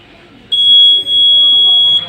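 A loud, shrill electronic buzzer sounds for about a second and a half, steady and piercing, with a faint dip midway.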